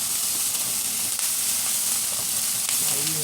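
Mushrooms sizzle steadily in a hot pan as they are stirred, a dense continuous frying hiss up close with faint scraping, no voices.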